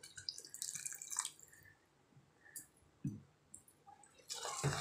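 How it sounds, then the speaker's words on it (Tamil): Hot water poured into a pot of bisibelebath, a South Indian rice and lentil dish, giving faint trickling and splashing in short bursts with a louder gush near the end, quiet and close. "அரை டம்ளர் அளவுக்கு தண்ணி சேர்த்துறேன்"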